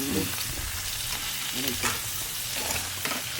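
Onion frying in hot oil in a pan, giving a loud, continuous crackling sizzle close by with small bursts of spatter and stirring throughout.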